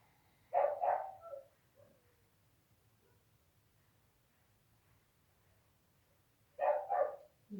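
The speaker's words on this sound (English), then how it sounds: "Very enthusiastic puppy in the background." A puppy barks in short excited bursts in the background, one cluster near the start and another about six seconds later, with quiet between them.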